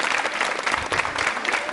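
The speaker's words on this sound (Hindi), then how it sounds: "प्राची गुप्ता के लिए तालियां जोरों से बजाइए आप।" Applause from the audience at a university quiz show, a short burst of many hands clapping briskly and fairly loud, with no talk over it.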